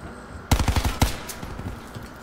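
Burst of rapid gunfire from a submachine gun in Call of Duty: Black Ops, played on a dark map: about six sharp, loud shots in quick succession, then a single louder shot, followed by faint game background noise.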